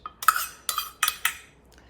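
Carrot muffin batter being mixed in a bowl, heard as four or five sharp clinks and scrapes of a utensil against the bowl in quick succession, close and fairly clear with no talking.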